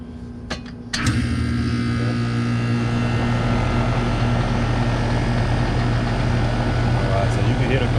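A Trane AC unit starts up with a couple of sharp clicks, then the compressor and fan settle into a loud steady hum and drone that runs on unbroken.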